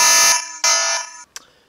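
Dome siren connected to a SmartThings hub sounds its alarm chime: two loud, piercing tonal blasts, each lasting about a third of a second, followed by a brief fainter chirp. No voices are present.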